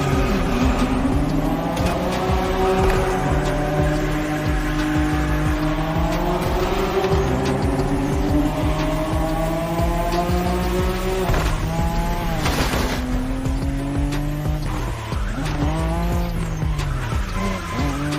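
Cars in The Crew Motorfest racing game drifting through corners, with loud continuous tire squeal over straining, revving engines whose pitch rises and falls, dense and close throughout.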